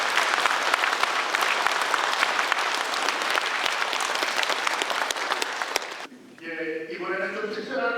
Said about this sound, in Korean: 수고해 주신 이 모든 분들을 위해서 감사의 큰 박수 드립니다.